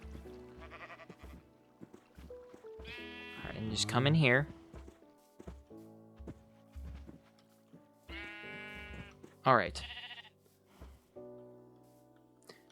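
Two Minecraft sheep bleat in wavering bursts, each call loud and close, amid blocky footsteps and game sounds while someone talks between them.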